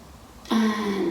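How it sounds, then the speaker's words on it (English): One person gives a short, sharp sniff through the nose while holding a deep breath in a guided breathing exercise, a single breathy burst after a moment of quiet. "See if you can sniff again."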